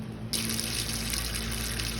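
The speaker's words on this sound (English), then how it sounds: "fill in my canner with water according to my canner instructions" Tap water gushes loudly into a home canner on a homestead kitchen, starting abruptly after a brief lull and then pouring in a steady, close rush.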